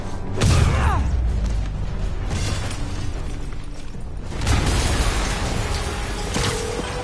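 A loud, rumbling explosion in a Spider-Man video game bursts out, then a second heavy blast swells a few seconds later, with debris crashing and a dense roar filling the space between.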